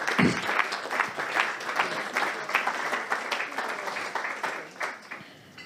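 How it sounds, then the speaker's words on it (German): An audience applauds in a dense, steady burst of clapping that gradually fades out. "Tada! Applaus!"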